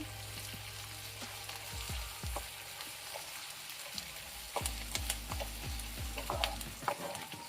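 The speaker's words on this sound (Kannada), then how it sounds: "ಸ್ವಲ್ಪ ಎಣ್ಣೆಲಿ ಫ್ರೈ ಮಾಡ್ಕೊಳ್ಳಿ" Bitter gourd frying in a little oil with chillies for a Kannada-style palya, crackling and sizzling steadily with sharp spatters and pops, plus scraping as the pieces are stirred in the pan.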